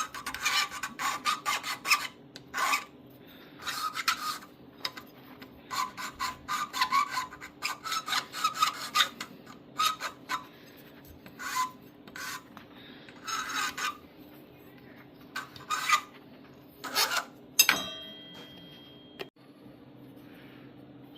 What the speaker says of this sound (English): Now put a good chamfer on it all the way around.